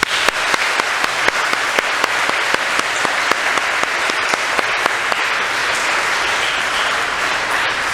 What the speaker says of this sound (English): A huge round of applause for all those people who truly make the sports season special here at Stanstead